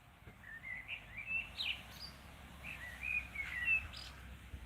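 A blackbird perched at the tip of a tree in the evening sings two clear, flowing warbled phrases with a pause between, moderately distant over a quiet outdoor hush.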